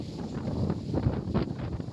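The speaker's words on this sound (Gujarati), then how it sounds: "અવાજ ઉપરથી ખબર પડશે તમને કેટલી હવા છે" A strong wind blows across an open farm field, buffeting the microphone in a continuous low rumble with gusty swells and no talk.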